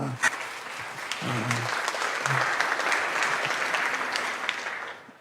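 An audience claps steadily in sustained applause, dense and even, with a few louder claps and faint voices underneath.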